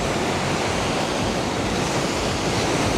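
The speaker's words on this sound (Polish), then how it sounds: "Ale fale tam są, jak ludzi porywają." Ocean waves break continuously on a beach at Freedom Beach in Thailand, making a steady, loud, rushing surf wash with no pauses and no voices.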